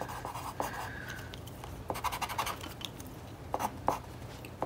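A pen or pencil writes a sentence by hand on paper, giving soft, intermittent scratchy strokes in short bursts, close and fairly quiet, with no talk over it.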